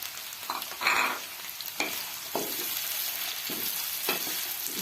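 Onions sizzle and fry in hot ghee as a utensil stirs them, with several scraping knocks against the pan over a steady bright frying hiss, close and moderately loud.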